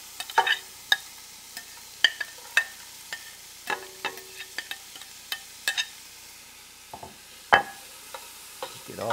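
Onions and garlic going into a hot pot for Salisbury steak, with scattered sharp clicks and scrapes of a utensil stirring over a faint sizzle, irregular knocks spread across the stretch.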